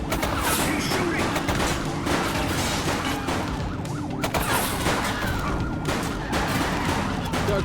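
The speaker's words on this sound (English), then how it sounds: "He's shooting!" Gunfire in the police video game The Precinct rattles in dense bursts over a wailing siren and street noise, loud and continuous, with voices mixed in.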